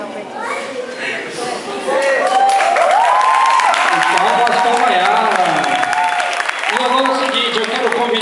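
Guests at a 15th birthday party clap and cheer for the birthday girl, a loud, sustained burst of applause mixed with excited voices and shouting from a lively crowd.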